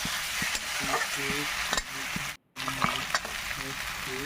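Fried bitter gourd and lentil dumplings being stirred in a pan for a bitter chorchori, with steady scraping strokes over a constant sizzle and a brief silent gap midway, close and alone.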